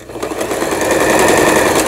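A Lion SS308 sewing machine with a plastic body runs steadily while reverse stitching, its rapid needle rhythm loud and close throughout.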